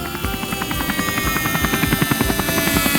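A cartoon helicopter flies steadily, its rotor thumping in a fast, even pulse over a continuous engine whine at moderate loudness.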